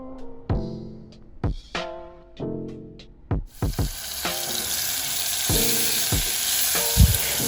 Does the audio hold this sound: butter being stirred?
yes